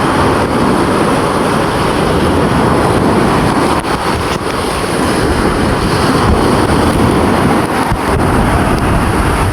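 Big sea waves and strong wind roar around a boat at sea, a continuous loud rush with wind buffeting the microphone and no voices.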